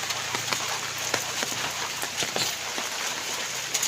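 Light rain falls at a house, a soft, steady patter with scattered sharper drips hitting nearby surfaces, close and unbroken for a few seconds with no voices.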